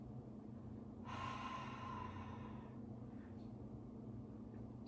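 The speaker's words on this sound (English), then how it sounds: "breathing out through the mouth" A single slow, deep exhalation through the mouth during a relaxing full-body stretch, a soft airy rush lasting under two seconds over a steady low hum, close and fairly quiet, with no talking.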